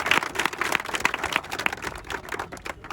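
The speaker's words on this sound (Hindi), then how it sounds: "तालियां फिर से।" Quick, dense clapping from a group of people, steady and fairly close for about three seconds, with no voices over it.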